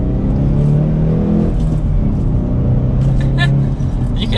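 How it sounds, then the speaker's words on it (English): A Hyundai Veloster N in sport mode pulling hard under acceleration, its turbocharged engine droning loud and steady from inside the cabin with rising tone and faint turbo whistle, while someone talks over it. "So one last acceleration for today's video,"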